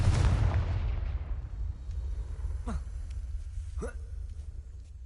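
A fiery Confringo spell blast in the Hogwarts Legacy video game bursts loudly at the start and fades into a low rumble, followed by two short swooping whooshes.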